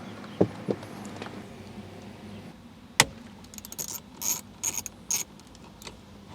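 T30 Torx head bolts are worked loose on a 2003 Toyota Camry steering column cover, giving a few sharp knocks followed by short bursts of close ratcheting clicks, with no one talking.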